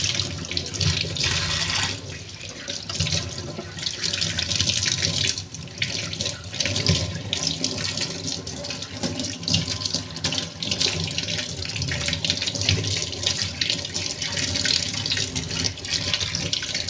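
Tap water runs steadily over a houseplant as it is rinsed clean, a continuous splashing rush under a faucet that lasts throughout with small shifts in flow.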